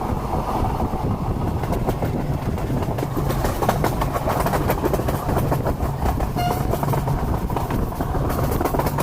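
A passenger train runs along the tracks near Khandala, a steady loud rumble with rolling wheel noise and faint rhythmic clatter throughout, no voices.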